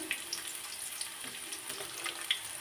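Chopped onion and garlic with black cumin frying in hot oil in a pan give a steady, close, even sizzle and hiss with a few faint clicks. No one speaks.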